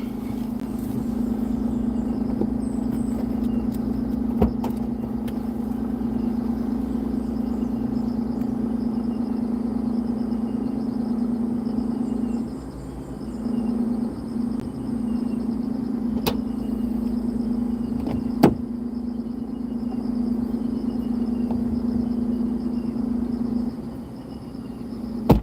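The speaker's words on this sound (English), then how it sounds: "that's a freaking muffler back there rattling like that" A car is being driven with a rattling muffler at the back: a steady droning engine hum inside the cabin, broken by occasional sharp clicks and knocks, with no voices.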